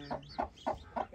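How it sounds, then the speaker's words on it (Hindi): Chickens clucking in short repeated bursts, about four close, fairly loud calls in quick succession with a rooster among them, heard alone in a farmyard coop where young chicks are kept. "चीता मुर्गा ज़बरदस्त अकेला आबाजाशी कर रहा है"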